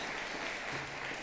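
Audience applause at a teachers' salute ceremony, a steady, dense clatter of many hands clapping together, fairly distant and even, lasting about a second without pause.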